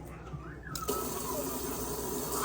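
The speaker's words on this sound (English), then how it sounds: "So I'm gonna add just over 2 scoops of water." Water poured into a pot of rinsed rice for cooking, a steady gushing flow that starts softly and grows fuller after a moment, running continuously close by.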